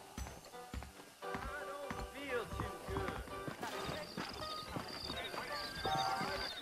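Horse hooves clip-clopping with a whinny in the Red Dead Redemption video game, rhythmic hoof falls under game music and effects, with a voice talking over it.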